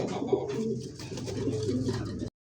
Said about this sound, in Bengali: হ্যাঁ ডাকতেছে, এটা হচ্ছে নর কবুতর